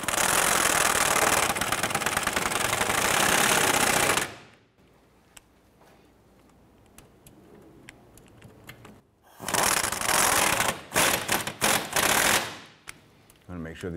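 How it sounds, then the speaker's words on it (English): Power-tool bursts tighten the rear cradle bolts on a 2006-2013 Chevrolet Impala: a loud, steady rattling whir for about four seconds, a quieter stretch, then more bursts near the end. "Let's go ahead and tighten down these bolts."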